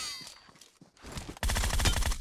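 Gunfire from a PUBG Mobile game match: a loud, dense burst of rapid shots erupts in the second half after quieter scattered game sounds, with no talking.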